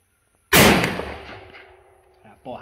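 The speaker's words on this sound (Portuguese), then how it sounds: "Dois tiros ali em 50 metros." A 12-gauge shotgun fires a single slug at a target 50 meters away on a shooting range, one sharp, loud, close blast that rolls off into a long fading echo, followed by a brief faint noise.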